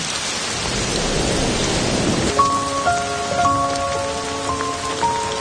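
Steady heavy rain falls and drums on surfaces with a dense hiss, with thunder rumbling in a storm; about halfway through, soft sustained tones of a musical score enter over the downpour. No one speaks.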